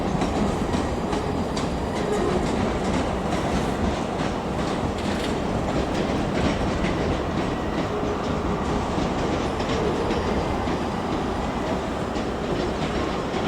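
A ScotRail train pulls into Edinburgh Waverley station with a continuous loud rumble and rhythmic wheel clatter, steady throughout with no talking.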